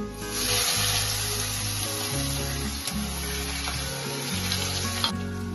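Onion sizzling loudly and steadily in hot oil tempered with cumin and chopped garlic for achari karela, a close, continuous frying hiss with no voices.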